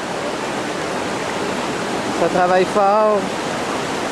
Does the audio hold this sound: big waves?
yes